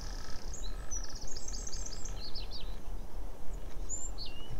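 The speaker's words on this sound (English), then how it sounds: "Fantastic little bird." A small bird calls at the Fowlmere nature reserve, a flurry of high, thin chirps and tweets in quick succession, then a few more after a pause, over steady outdoor background noise.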